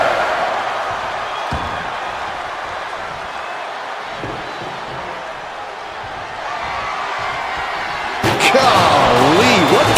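In a WWE wrestling video game, a wrestler's stomps and slams hit the ring with sharp thuds over a constant crowd roar, with a louder burst of cheering near the end.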